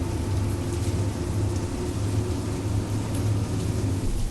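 Steady rain hiss with low rumbling thunder in Bus Simulator Indonesia, a dense continuous wash of storm noise with no voices, staying even throughout.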